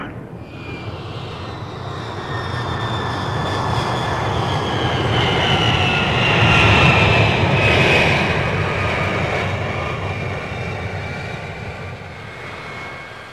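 Airplane engines roar steadily during a climb past 8,700 feet with a high whine on top, swelling louder toward the middle before easing slightly, continuous and close throughout.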